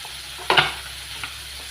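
Tomatoes sautéing in a pan for squid adobo, a soft steady sizzle with a brief louder scrape of stirring near the start and a smaller clink later, close by with no talk.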